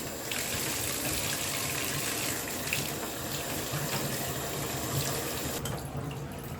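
Running tap water pours steadily over vintage hats being rinsed in a sink, a continuous close gush and splash with no pauses.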